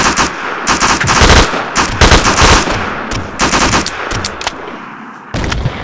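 Machine gun fire in a multiplayer video game mission, loud dense bursts of rapid shots in irregular clusters with brief pauses between, close and dominant throughout.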